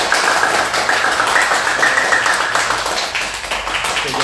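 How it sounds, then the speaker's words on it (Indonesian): Applause for a guest on an Indonesian talk show about cruise ship crew life, a few seconds of busy overlapping clapping from a small audience, close and fairly loud. "Beri tepuk tangan sekali lagi untuk Kak Sofi"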